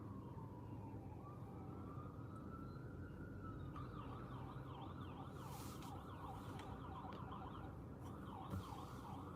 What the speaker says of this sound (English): That's the ambulance going through the intersection down here.